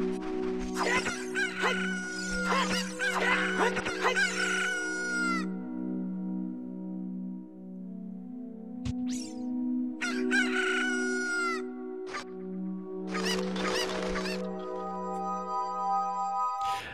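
A chicken clucks and crows in a hacked Zelda Ocarina of Time game, the calls coming in several loud bursts over steady background game music.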